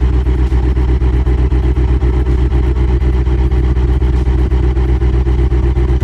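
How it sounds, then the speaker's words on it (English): A 1000 hp twin-turbo Cadillac 500 cubic inch V8 in the Automation game runs at a steady, loud, rumbling idle with a rapid pulsing beat, alone without talk. "Now we have 1000 horsepower Cadillac 500 cubic inch engine."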